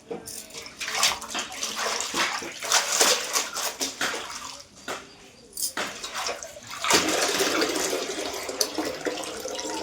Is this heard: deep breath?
no